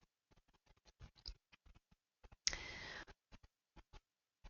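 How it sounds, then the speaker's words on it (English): Sharp computer mouse clicks come in a quick irregular series, close and dry, with a brief burst of broader noise partway through and silence between the taps. "Click on Map to get started."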